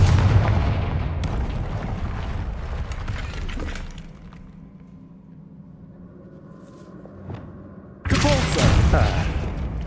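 A Confringo spell blasts in Hogwarts Legacy, a loud, sharp explosive burst with shattering debris and rumbling, followed by a quieter stretch and a second heavy crash.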